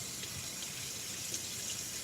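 Tap water runs steadily into a sink while something is rinsed during ramen preparation, a close, even broadband rush for about two seconds with no talking.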